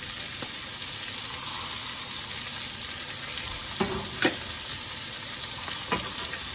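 Chopped onions and bacon frying in a pan, a steady close sizzle with a few brief clinks and stirring knocks partway through and no talking.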